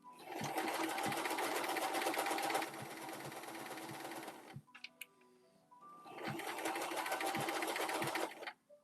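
A sewing machine stitches in two fast, steady bursts close to the microphone, separated by a short pause filled with faint clicks and handling noises before the motor starts again.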